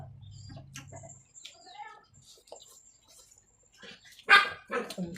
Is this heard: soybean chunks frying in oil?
no